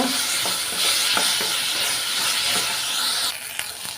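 Ivy gourd (kovakkai) sautés in oil with no water added, giving a continuous close hiss with scattered soft clicks from stirring. The sizzle dips slightly near the end.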